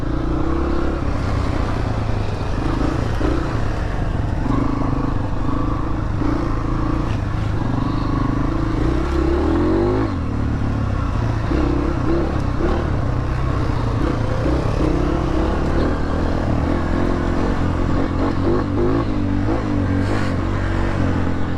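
Dirt bike engine running steadily and loudly throughout while riding, with a continuous drone and revving swells, plus rattling and wind buffeting, close and alone without talk.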